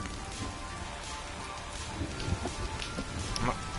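Rain falls steadily in the survival video game The Forest, a dense, even hiss of drops with faint scattered patters. It continues unbroken throughout and sounds fairly loud and close.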